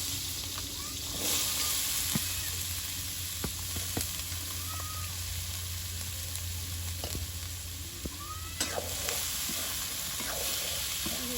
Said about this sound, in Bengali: তেল হয়ে আসছে দিয়ে দিচ্ছি আলুগুলো